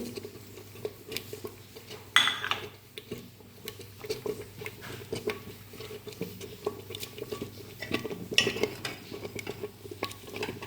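A handful of moringa leaves stirred into cooked rice in a pot, soft scraping and rustling of a spoon through the rice with occasional metallic clinks against the pot's side.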